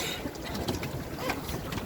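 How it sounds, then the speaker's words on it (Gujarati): A small recreational boat cruises on a lake in a park with gardens, water splashing nearby. The noise is a steady, close, broadband rush of water and wind that holds an even loudness throughout, with brief brighter splashes. "અક્ષર બોટિંગ હાકે છે"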